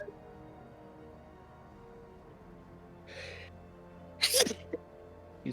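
A single sharp sneeze bursts out close up near the end of a quiet stretch, with a softer breathy sound just before it, during a Stellaris gaming session.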